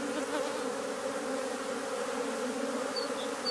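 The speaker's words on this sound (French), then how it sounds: "c'est incroyable le nombre d'abeilles qui tournent, elles repèrent l'emplacement de la ruche" Dense, steady drone of many honeybees circling close around a beehive on orientation flights, a continuous buzzing swarm with no pauses and no voices.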